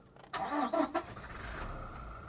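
A Toyota Innova Crysta engine cranks and catches with a loud burst, then settles into a steady, low idle hum that runs to the end.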